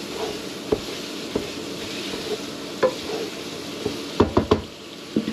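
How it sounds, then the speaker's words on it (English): Italian sausage frying in a pan, with a steady close sizzle under occasional knocks and stirring scrapes from a utensil against the cookware. "Just have to cook the sausage."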